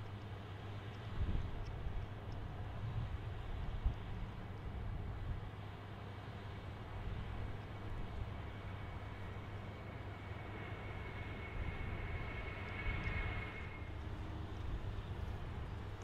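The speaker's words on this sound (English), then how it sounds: "That's an Airbus A319. Then we got a 767 moving." Airliners, including an Airbus A319 and a Boeing 767, taxi at Detroit Metro airport, a faint, distant, steady jet-engine hum with a low rumble that holds throughout and swells gently now and then.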